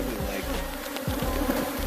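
Bees swarming around a hive being removed from a box, a dense continuous buzz with a few louder passes close by, no talk over it.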